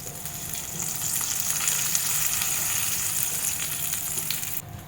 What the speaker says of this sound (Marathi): आपण यावरती मस्त खमंग अशी फोडणी घालणार आहोत